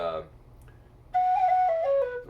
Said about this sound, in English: Carbony whistles, they're soft and airy and mellow